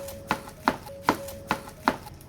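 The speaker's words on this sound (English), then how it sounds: "These need to be sliced and separated into rings." A knife slices small yellow onions into rings, five evenly spaced cuts landing close and crisp about every half second over a steady low hum.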